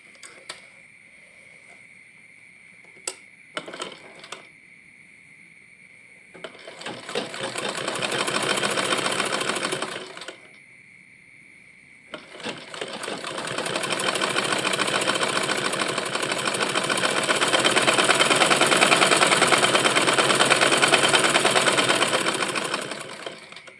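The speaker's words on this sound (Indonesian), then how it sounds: "Oke ya, kita jahit kembali." An electric sewing machine stitches a hijab piece in two runs, a short burst of steady whirring, a pause, then a longer continuous loud hum that builds slightly, with a few small clicks beforehand.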